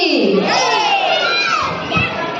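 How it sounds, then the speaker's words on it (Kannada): Crowd of young voices shouting patriotic victory slogans in unison during an Independence Day Kannada stage play; loud, close, sustained chanted cries with rising and falling pitch. "ನಮ್ ಭಾರತಾಂಬೆ ಜೈಕಾರ ಹಾಕ್ರಿ, ಮಹಾತ್ಮ ಗಾಂಧೀಜಿ ಜೈಕಾರ ಹಾಕ್ರಿ"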